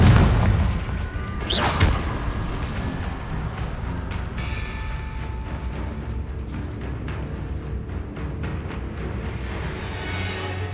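Confringo blast spell in Hogwarts Legacy, set in the catacombs: a loud booming burst near the start, followed by rumbling, crackling debris and lingering game ambience with no talk.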